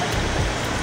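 Heavy rain pours steadily in Khandbari bazaar, a dense, even broadband hiss without pauses or distinct drops, fairly loud and close.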